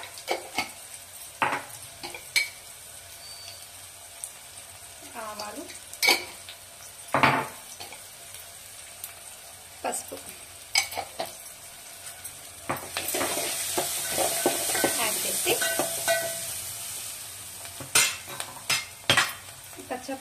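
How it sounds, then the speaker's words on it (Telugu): Ginger garlic paste and cumin go into a hot pan, sizzling steadily with a stronger frying hiss partway through, and a spoon or ladle scrapes and clinks against the metal in short bursts. "ఈలోపు నేను అల్లం వెల్లుల్లి పేస్ట్ ట్రాన్స్ఫర్ చేస్తాను ఇందులో కొంచెం జీలకర్ర"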